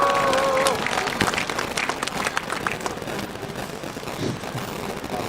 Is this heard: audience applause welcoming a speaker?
yes